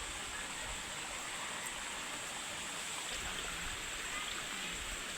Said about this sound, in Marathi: पाणी जायला रस्ता करताय